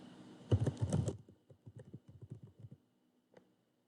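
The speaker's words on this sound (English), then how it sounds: "That is how you type in a box on Google Slides." Close, soft clicking of computer keyboard keys in a quick cluster of taps, then a slower run of individual presses trailing off to near silence.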